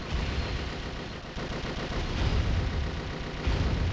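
Vehicle weapons firing in the video game Twisted Metal: Small Brawl, a dense continuous rattle of shots and booming impacts, loud and steady over the whole stretch with no voices.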